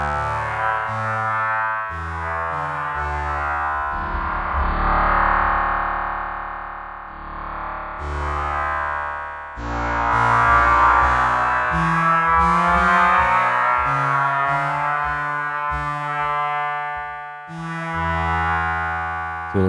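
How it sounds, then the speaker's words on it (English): A physical modeling synthesizer run through effects plays sustained, distorted tonal notes with chorus and echo, shifting pitch in slow phrases, loud and continuous with no voices. "it still kind of always sounds like a lot of physical modeling synths, but still with these kind of cool limitations"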